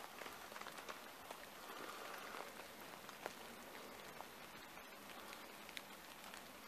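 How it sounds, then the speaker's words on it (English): Rain patters onto a tarp strung up in wet winter woods, a soft, dense crackle of countless small drops with an occasional louder tap, steady and fairly faint throughout. "There's something nice about the woods in winter,"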